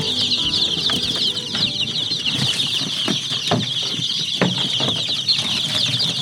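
A large flock of farm chickens, over two hundred birds, clucks and stirs with wing flaps and scratching while waiting to be fed; busy, close, continuous chatter with scattered sharp clucks, no voices.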